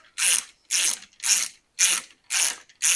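Six evenly spaced ratcheting clicks from a wrench tightening a rod vise onto a connecting rod during a big block Mopar engine rebuild, close and crisp with short gaps between bursts.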